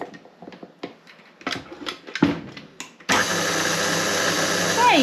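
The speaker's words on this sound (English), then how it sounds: "Pop the paddle back on and beat that through for a little bit as well." A stand mixer fitted with a paddle beats pudding batter with milk for a steamed syrup pudding, starting as a steady loud whirring drone after a few seconds of clattering and handling noises.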